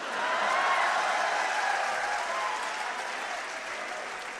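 Audience applause at a Hindi kavi sammelan poetry recital in Indore, a steady, dense wash of clapping from a large crowd that holds at full strength and eases off slightly toward the end.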